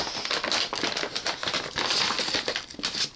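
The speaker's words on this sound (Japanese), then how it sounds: "今シール剥がしたんだけど取れそうにない" Sticker being peeled and torn off a package holding a replacement Game Boy Advance SP shell, a steady close crinkling and crackling of paper and plastic throughout, with no talking.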